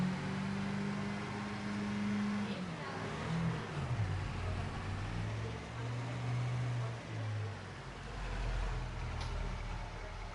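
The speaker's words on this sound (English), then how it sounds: "No change to the engine sound." A farm vehicle's engine in Farming Simulator 25 drones steadily, its pitch sliding down and holding through gear changes, loud and continuous throughout, with no talking.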